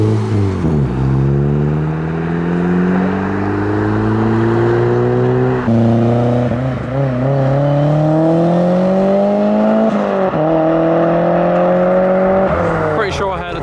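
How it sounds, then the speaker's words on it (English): Turbocharged car accelerating away from a car meet, with engine harmonics climbing through gear changes in repeated rising sweeps, loud and close, ending with a brief burst of noise. "Pretty sure I heard a turbo just then."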